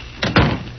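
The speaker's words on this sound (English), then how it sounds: "Come in and shut the door." A door being shut in an old-time radio crime drama, heard as two quick muffled thumps close together, a lighter contact followed by a heavier closing thud, in a quiet room.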